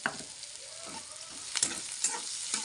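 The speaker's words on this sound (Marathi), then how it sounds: "परतून घेते आता" Shepu (dill) greens and soaked moong dal sautéing in a hot pan, a steady close sizzle with occasional sharper stirring scrapes and crackles through the stretch, no talking.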